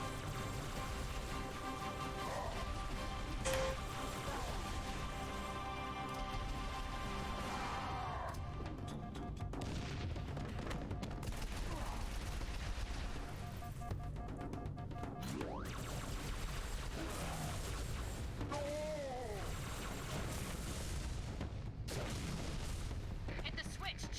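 Enemy gunfire in the Halo game, with repeated shots and booms running steadily under a continuous layer of game effects and music, while someone talks over it throughout.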